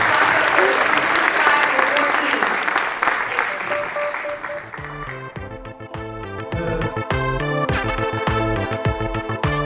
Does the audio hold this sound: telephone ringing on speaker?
no